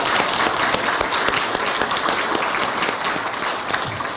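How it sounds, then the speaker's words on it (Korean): Steady applause from a university chapel audience welcoming new choir members, dense clapping filling the whole stretch at an even level without letting up. "우리 함께 격려의 박수 보내드리겠습니다."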